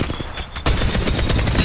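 Rapid automatic gunfire in Apex Legends Mobile, a dense sustained burst that starts abruptly and stays loud and close until the end.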